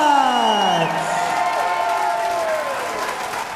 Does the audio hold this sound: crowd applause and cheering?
yes